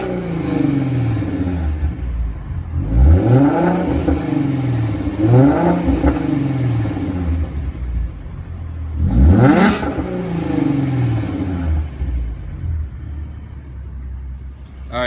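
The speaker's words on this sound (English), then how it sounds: "here's a little exhaust clip" A 2015 Ford Mustang's exhaust heard from inside the cabin, several rising revs that swell and fall back to a low idle rumble, loud and close.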